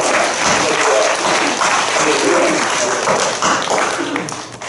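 A church congregation at a Wednesday worship service applauds the pastor, choir and musicians, a dense, even roll of clapping from many hands that holds steady and then thins slightly toward the end.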